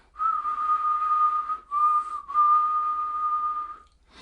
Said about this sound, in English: Try whistling this note.